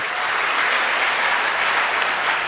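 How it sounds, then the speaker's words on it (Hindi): Dense, sustained applause from a large audience at an AWPL direct-selling network marketing event, a steady loud wash of many hands clapping at once with no gaps. "मैं चाहता हूं AWPL की जबरदस्त तालियां होनी चाहिए।"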